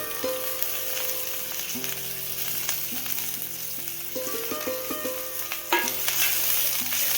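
Squeezed kuda flowers frying in roasted masala in a pan, a steady close crackling sizzle with stirring and scraping noises, no talking.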